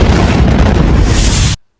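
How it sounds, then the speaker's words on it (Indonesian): A phone blowing up as a sound effect: a loud, close, rumbling blast of broadband noise that holds for about a second and a half, then cuts off abruptly to silence. "Siapa tahu HP-nya panas terus meledak dar."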